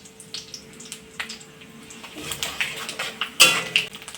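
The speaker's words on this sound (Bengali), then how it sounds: "সর্ষের তেলটা গরম হয়ে গেছে, এবার আমি গোটা জিরে দিয়ে দেব।" Whole cumin seeds sizzle in hot mustard oil in a pan, a faint, steady crackle with scattered sharp pops that grow denser and louder toward the end.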